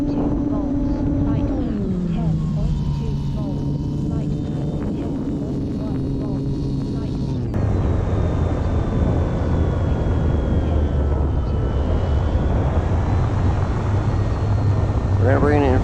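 A small RC model airplane on a 3S battery carrying two cameras flies at full speed, its electric motor and propeller whining steadily and loudly, the pitch dropping and shifting as it passes.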